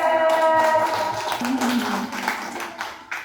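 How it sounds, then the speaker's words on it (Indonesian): Kindergarten children clapping their hands together in class, a brief burst of light, uneven claps mixed with voices and a bit of singing or chatter. "Yeay, tepuk tangan."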